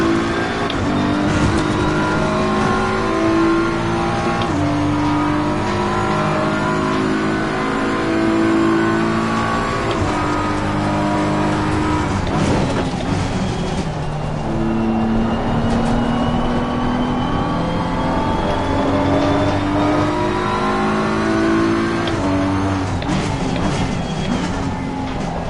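A BMW race car in a racing video game revs and accelerates continuously for about 25 seconds, its loud engine note rising and falling through gear changes, with brief tire squeal and no talk over it.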